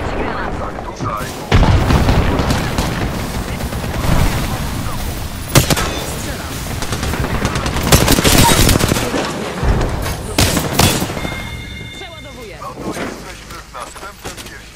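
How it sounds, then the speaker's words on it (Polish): Loud video-game combat with a grenade blast and bursts of gunfire, heavy booms and rapid shots layered over a dense battle din, with a voice talking throughout. "Leci granat."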